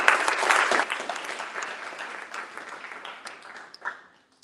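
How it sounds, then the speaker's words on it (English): Audience applause at an annual general meeting of a student society, a burst of clapping from a modest crowd that starts strong and slowly thins out to a few final claps. "please give a round of applause for all of you"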